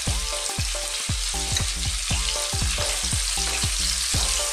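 Garlic, onion and chili sautéing in a pan for a Filipino green beans and pork dish, a steady loud sizzle and crackle with repeated scraping stirs throughout.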